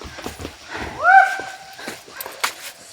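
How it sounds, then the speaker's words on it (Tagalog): Horse hooves clopping on mountain ground among background chatter, with a short whinny-like call in the middle. "Kabayo pa ang gamit nila"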